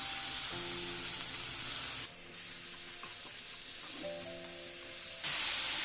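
Onion and garlic sizzling in a pan while cooking beef stroganoff, a close, steady frying hiss that dips and returns, with a low tonal hum underneath and no speech.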